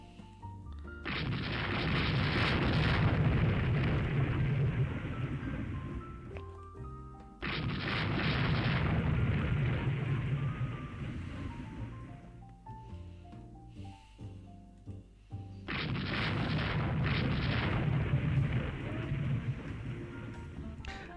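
Battleships firing big 14-inch guns in a naval strategy game, Rule the Waves 3, with three long heavy booming salvos rolling out one after another, each loud and drawn out with a rumbling tail.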